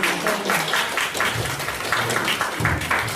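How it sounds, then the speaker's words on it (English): Residents at a writing event at The Timbers give a round of applause, the clapping coming in quick, fairly even pulses, moderately loud and close, with no talk over it. "So one more round of applause."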